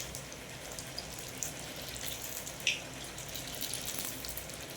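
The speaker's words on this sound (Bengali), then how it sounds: "এবার গরম তেলে 1 হাতা করে দিয়ে একটা একটা করে ভেজে নিতে হবে।" Malpoa batter is ladled into hot oil and fries with a soft, continuous sizzle and faint bubbling, quiet and steady, with a few small pops.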